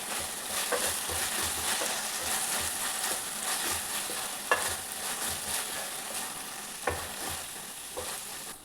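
Ginger garlic paste fries in a pan of tomato-based curry, a steady sizzle running throughout with occasional stirring scrapes and clicks, close and moderately loud, no talking.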